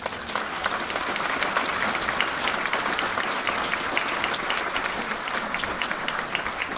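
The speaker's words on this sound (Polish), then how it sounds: "Wielkie brawa!" Theatre audience clapping warmly for an honoured guest at a ceremony, a steady dense round of applause filling the hall with crisp individual claps throughout.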